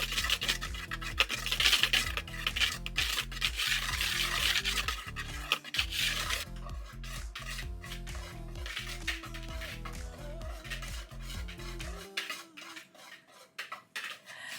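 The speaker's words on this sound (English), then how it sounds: "Whisk all this up." A whisk clatters rapidly against a dish, mixing nutmeg, ground cloves and allspice for carrot muffin batter, a busy metallic scraping rhythm that runs steadily and stops near the end.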